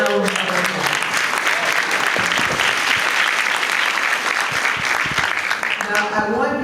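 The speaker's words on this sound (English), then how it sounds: "Give everybody a big round of applause." A breakfast celebration crowd for the Kingdom Day Parade in Los Angeles bursts into sustained applause, dense, steady clapping from a large room lasting the whole stretch, with a few voices and cheers mixed in beneath it.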